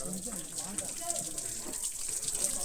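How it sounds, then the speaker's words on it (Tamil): Water from the waterfall at Ahobilam temple pours steadily down in a continuous broad rush, close and fairly loud, with a person talking faintly underneath. "365 நாளும் இந்த தண்ணி பார்த்தீங்கன்னா கொட்டிட்டு இருக்குமா"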